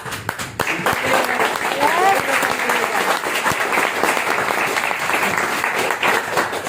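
Sustained applause from a seated audience at a business gathering, a thick wash of clapping hands holding steady at fairly loud level, with a voice faintly mixed in partway through.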